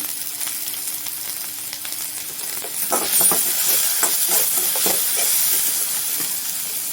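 Mango chitranna mixture fries and sizzles in a pan, a steady hiss of steam that grows louder partway through, punctuated by light scraping and tapping as it is stirred.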